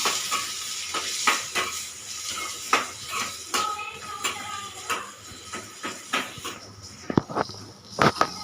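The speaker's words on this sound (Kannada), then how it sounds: "ಟೊಮ್ಯಾಟೊ ಹಾಕ್ತಾ ಇದ್ದೀನಿ. ಇವಾಗ ಸ್ವಲ್ಪ ಫ್ರೈ ಮಾಡಬೇಕು ಟೊಮ್ಯಾಟೊನ." Chopped tomatoes frying in a hot pan for a Gujarati dish, a steady close sizzle broken by sharp spoon scrapes and taps against the metal.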